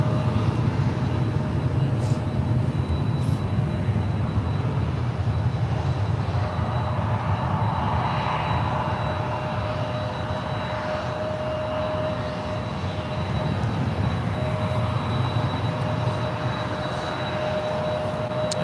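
An aircraft rolls for departure on runway 01 right at San Francisco airport, a steady distant engine roar that holds for a long stretch without fading, with faint background hum and no talk.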